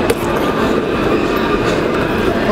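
A train rumbles loudly and steadily close by, with a rattling clickety-clack of wheels on rails and a faint metallic squeal.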